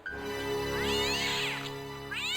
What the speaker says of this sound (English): Just that cat that likes to live in there.